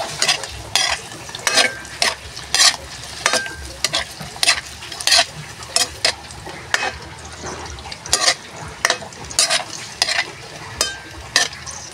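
Food fries in a pan with a constant sizzle, punctuated by a dozen or so rhythmic scraping strokes of a utensil stirring, near and fairly loud, with no talking.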